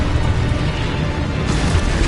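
A Confringo blasting spell goes off in a Harry Potter video game, a dense, steady low booming rumble with crackle that fills the whole stretch at constant loudness, no talk over it.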